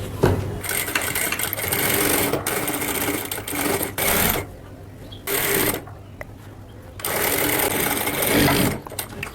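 Bursts of rapid machine stitching on a cotton kurti collar come close and loud, a buzzing whir that starts and stops several times with brief quiet gaps between runs.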